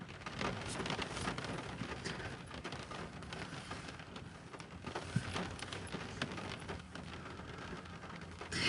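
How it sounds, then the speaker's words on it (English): Heavy rain pours steadily outdoors, a dense, continuous hiss of water striking surfaces with no pauses and no voices. "Julie, it's been pouring here all day"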